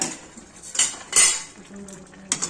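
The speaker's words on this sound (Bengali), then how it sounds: "দেখুন এবার ঢাকাটা তুলে দিলাম" A metal lid comes off a pot of cauliflower and soya chunk curry with a few sharp clinks and clatters, then quiet simmering.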